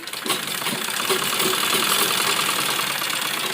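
A sewing machine runs steadily while stitching a seam on a readymade kurti during alteration, a continuous mechanical whir with a faint repeated clicking, close and alone with no voices.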